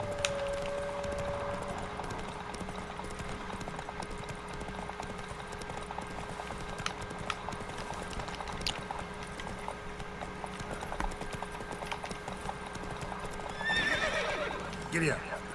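Roach, a horse in The Witcher 3 video game, gallops in a steady clip-clop rhythm and whinnies briefly near the end, with someone talking over the hoofbeats.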